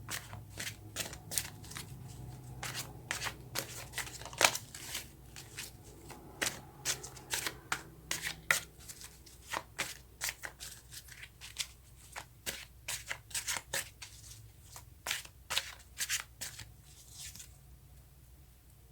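Tarot cards shuffled by hand before one more card is drawn, a rapid run of close crisp riffling snaps and flutters that thins out toward the end, with no talking.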